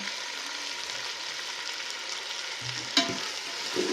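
Rajma pulao ingredients, with peanuts and coriander, are sautéed in a pan, giving an even low sizzle with a single sharp utensil knock near the end and no voices.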